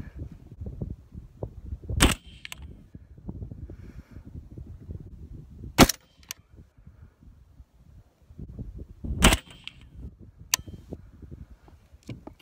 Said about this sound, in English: So right now I'm shooting at 100 yards, just shooting paper.